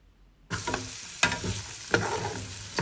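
Chickpeas and green peas being stir-fried in a pan, heard as a steady sizzle with sharp scraping clatters of the spoon against the pan at a few points, close and distinct.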